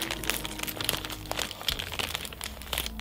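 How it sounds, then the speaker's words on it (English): A plastic shipping bag holding a shirt is torn open by hand, giving a run of close crinkling and crackling sounds with sharp snaps scattered throughout, over a low steady hum. "we just rip open the bag"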